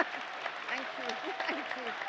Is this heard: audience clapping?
yes